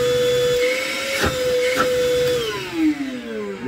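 An Ozito PXC 18V cordless wet and dry vacuum cleaner, fitted with a 5.2 Ah Ultra battery, runs close up with a steady high motor whine that winds down in pitch at the end.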